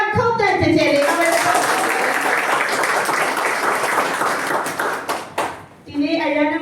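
An audience at a business motivational event bursts into loud, dense applause lasting several seconds, framed by someone speaking through a microphone before and after the clapping.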